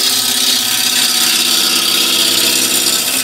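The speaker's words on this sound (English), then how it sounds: "A little bit of a sharpen there" A lathe tool held against a CBN grinding wheel gives a loud, continuous hissing grind that stays steady and close throughout, with no voices.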